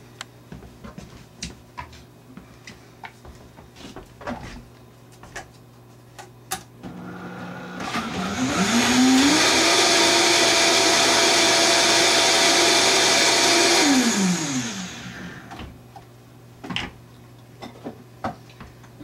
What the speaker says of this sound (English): on the blender it goes